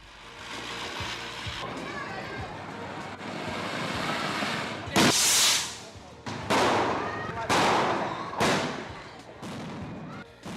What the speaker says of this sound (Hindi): पटाखों की कान फोड़ देने वाली आवाज